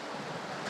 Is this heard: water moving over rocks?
yes